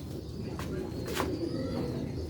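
A Sialkoti 'medical' pigeon with green and purple neck coloring gives low, soft cooing notes over a steady background hum, fairly faint and close.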